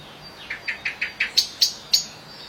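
Super black bird of paradise giving a run of about eight sharp, rising chirps at a steady pace, each a little louder than the one before, close and clear against quiet background with no talking.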